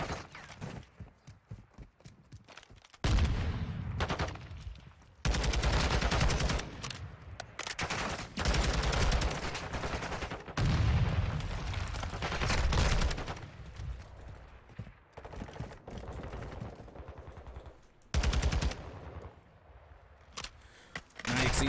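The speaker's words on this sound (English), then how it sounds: "And finally, they will be gunned down." Call of Duty gunfire during a competitive 4v4 collegiate match, repeated bursts of automatic fire and shots in irregular clusters over a long stretch, with quieter gaps and footsteps between volleys.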